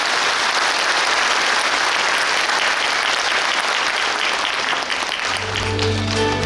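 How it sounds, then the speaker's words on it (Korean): A large audience at a civic forum in Suncheon on the Jeonnam-Gwangju administrative and education integration claps loudly and continuously, with a steady tone rising beneath the applause near the end. "여러분 큰 박수 한번 부탁합니다"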